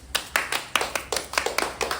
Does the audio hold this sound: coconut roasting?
no